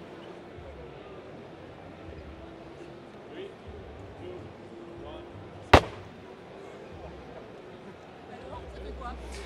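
A Dainese Smart Jacket motorcycle airbag vest fires and inflates with a single sharp, loud pop, standing out alone against a quiet background of low ambient noise.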